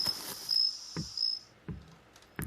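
Forest night ambience from a game environment: a steady high cricket chirr runs through the first second and a half, then fades, with a few soft low thumps spaced through the clip.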